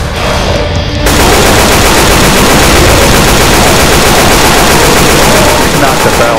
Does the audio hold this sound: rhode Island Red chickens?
no